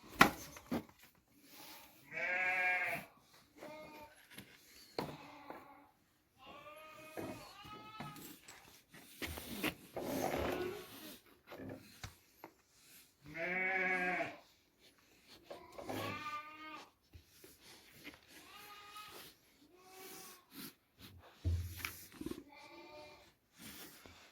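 Rams bred from a ram named Sakız bleat on a farm, several separate drawn-out bleats spaced a few seconds apart, fairly close, with quiet gaps and faint background noise between calls.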